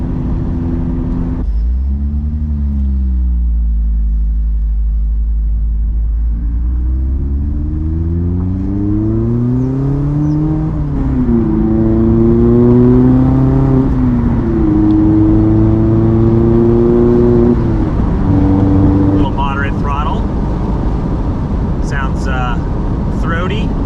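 A Mazda ND Miata fitted with a Roadster Sport exhaust revs and pulls through the gears, its engine note climbing and dropping in repeated sweeps before settling into a steady throaty cruise, loud and close throughout.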